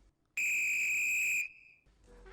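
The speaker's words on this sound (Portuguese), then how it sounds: "um som de apito." One long, loud shrill basketball referee whistle blast sounds for about a second, then fades into quiet background noise.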